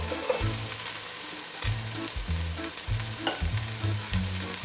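Cauliflower and broccoli being stirred in a frying pan, a utensil scraping in short repeated strokes over a steady sizzle, close and clear with no voices.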